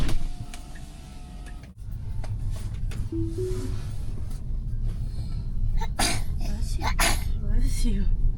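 A single sharp sneeze bursts out inside a Tesla running FSD 12.6.4 during a ride along in Lakeland, Florida, over steady road hum, with people talking in the car.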